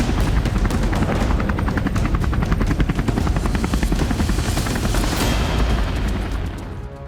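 A Polish military Mi-24 helicopter flies overhead with a loud, continuous rotor thump and turbine roar, steady and close throughout before easing slightly at the end.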